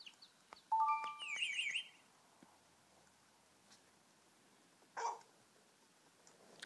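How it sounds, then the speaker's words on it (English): A basset hound gives a short burst of barking that is loud and close, followed by a single fainter bark a few seconds later, with quiet room sound in between. "As you may guess, he's a basset hound."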